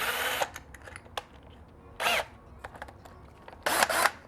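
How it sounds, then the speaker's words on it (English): A power drill bores a 3/8 inch pocket hole in wood, whirring in three short bursts separated by quiet pauses with faint handling clicks, close up. "now I'm going to straighten my drill out and I'm going to follow that"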